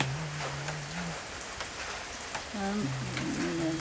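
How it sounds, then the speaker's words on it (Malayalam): Steady rain falls in a broad, even hiss of drops on surfaces, with a low humming tone drifting underneath at moments. "മഴയുടെ ഒച്ച കേട്ടോ."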